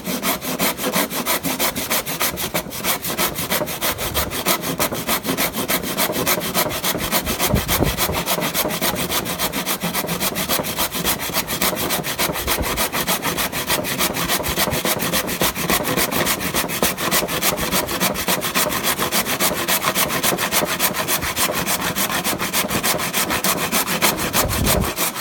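A hand saw cutting through wood in a fast, even back-and-forth rhythm, loud and close, with continuous rasping strokes.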